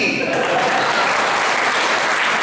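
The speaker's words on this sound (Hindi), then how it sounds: "अब बजाओ ताली।" Loud, dense clapping from a seated audience at a Jain religious discourse in Indore, a continuous roar of hands that stays close and strong throughout.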